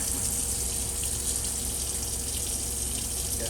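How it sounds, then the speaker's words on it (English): A caravan water pump fills the hot water system, giving a steady, continuous rush of flowing water with a low pump hum underneath, close and unbroken. "we'll just turn the pump on and just make sure there's some water in the hot water system"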